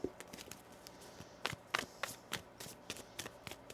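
Tarot cards are shuffled by hand in a series of quick riffles and soft slaps, close and fairly quiet, with irregular bursts.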